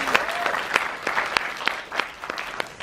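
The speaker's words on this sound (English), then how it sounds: "Let's give a big round of applause to have him." An audience at a film screening Q&A in the AMC Empire 25 theater applauds with scattered, fairly sparse claps that continue steadily for a few seconds, heard at a moderate distance.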